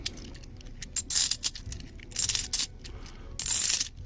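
Metallic coins, including nickels, clink and jingle in several quick bursts, as if dropped and shaken together, close by with short quiet gaps between.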